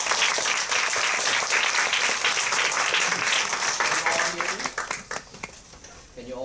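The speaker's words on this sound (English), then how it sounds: "Please welcome our guest speaker, Mr. Gilbert Chang, with a big round of applause." A workshop audience breaks into a big round of applause welcoming a guest speaker, many hands clapping densely and loudly, then thinning into scattered final claps as it dies away.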